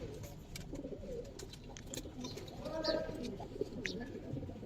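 Pigeons coo softly at a farm keeping red-eyed colour pigeons, low murmuring calls with faint chirps over a busy background; a voice can be heard nearby.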